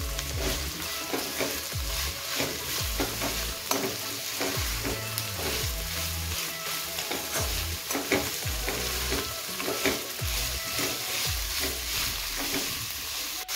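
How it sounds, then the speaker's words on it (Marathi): Vegetables for veg fried rice stir-fried over a high flame, a steady loud sizzle broken by repeated scraping stirs of a spatula in the pan, continuing close up throughout with no talk. "गॅस मोठा करूनच आपण छान याला भाजून घेऊया।"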